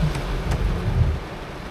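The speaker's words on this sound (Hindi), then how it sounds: "बाहर अभी बहुत तेज़ बारिश हो रही है" Heavy rain falls outside a 2025 Honda Elevate, heard from inside the car as a steady, muffled drumming with a low rumble.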